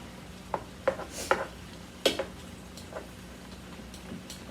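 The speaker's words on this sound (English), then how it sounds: "I'm just going to stir it a little bit more." Ground turkey and squash stirred in a pan, a few sharp spoon scrapes and taps against the pan over a faint background hiss, close and fairly quiet with no talk.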